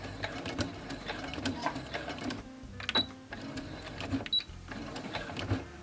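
A sewing machine fitted with a walking foot stitches binding onto a quilt, a soft run of clattering needle strokes in short bursts with small clicks and pauses, fairly quiet and close.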